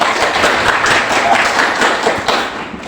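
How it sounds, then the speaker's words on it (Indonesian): A group of children claps hands together in a dense, continuous patter that stays loud and busy throughout, with no single claps standing out. "Tepuk tangan."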